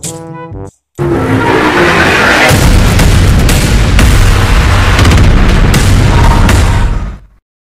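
Sustained automatic gunfire in the mobile game PUBG Mobile: loud, dense rapid shots with booming impacts for about six seconds after a brief game tone, with no voice over it.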